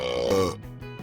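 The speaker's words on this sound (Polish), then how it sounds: "Wypij napój i beknij głośno." A single loud, close burp rumbles out after someone drinks a beverage. It lasts about a second, with a brief vocal grunt-like tail.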